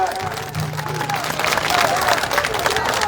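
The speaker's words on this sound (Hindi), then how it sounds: "जोरदार तालियां बजाए" A village rally crowd in Suthli, India claps and cheers after a speech, with dense applause mixed with shouts and a low hum, steady and loud throughout.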